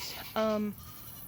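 A single goat bleats once in a pasture, a short, clear, wavering cry over faint background noise from the open field.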